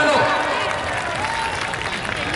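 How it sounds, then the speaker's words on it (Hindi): Crowd at a wrestling bout clapping on the announcer's urging, a dense, loud wash of applause with a voice talking over it. "एक बार तालियां तो बजा दो"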